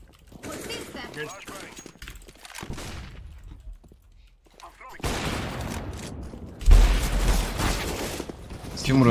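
Bursts of gunfire from a CS:GO match rattle through loud game noise, with a heavier volley near the end, while players talk over it.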